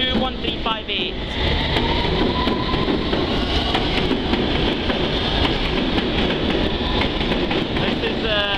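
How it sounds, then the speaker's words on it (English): A London Underground Circle line test train runs close by, a loud, steady rumble with rhythmic rail clatter and brief high squeals at the start and end. A voice can be heard faintly over it. "This is a circle line test train, 21358."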